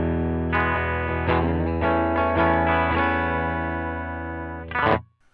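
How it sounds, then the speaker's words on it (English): A clean electric guitar tone rings out chords, each strum struck and left to sustain, ending with a quick flurry before fading to quiet. "So let's just hear the clean tone."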